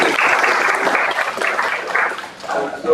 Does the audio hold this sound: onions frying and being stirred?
no